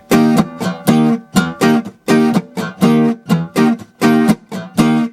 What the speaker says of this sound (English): So I'm still strumming, but I'm strumming muted strings.